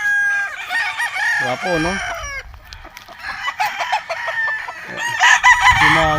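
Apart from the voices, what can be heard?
gamefowl roosters crowing and clucking on a farm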